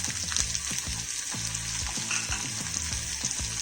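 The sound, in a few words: sautéing onions with green chilies and coriander leaves in a pan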